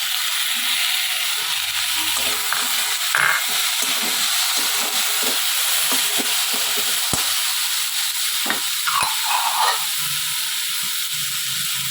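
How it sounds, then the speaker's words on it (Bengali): Steady sizzling hiss of chopped tomato frying in a hot pan, with faint scraping and stirring clicks throughout. "এবারে টমেটো কুচিটা দিয়ে একটু নেড়ে চেড়ে নেব"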